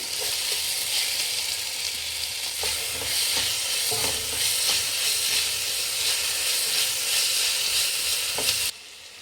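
Capsicum and tomato cooking in a pan, giving a loud, continuous, hissing sizzle with occasional stirring knocks throughout. The sizzle drops off abruptly near the end.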